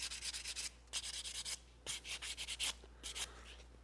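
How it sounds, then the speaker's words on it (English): Short back-and-forth strokes of 220-grit hand sandpaper gently rounding over a wooden plug on a bookcase, coming in quick rhythmic bursts with brief pauses between sets, close and steady. "take a piece of 220 hand sandpaper, and I just want to gently round over everything"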